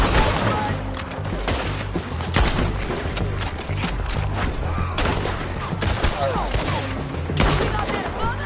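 Heavy gunfire in Red Dead Redemption 2, with dense overlapping shots and cracks firing steadily for several seconds and someone shouting over the battle.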